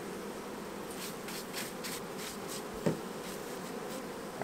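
Honey bees being put into a long hive, a steady close buzzing drone from many bees with a few louder individual passes, plus a soft bump of equipment.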